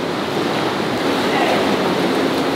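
Water in a hotel spa pool churns with bubbles in a constant loud hiss and rush, close by and steady, with no break.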